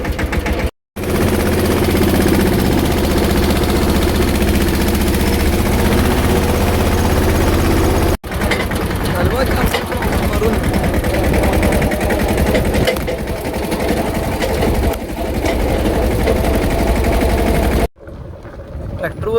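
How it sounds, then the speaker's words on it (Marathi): A farm tractor towing a pesticide sprayer drives along, its engine droning loud and steady with heavy wind buffeting, cutting out briefly near the start and end, while someone talks over it. "ट्रॅक्टरवर रंगळी लावून मी चाललोय खाली"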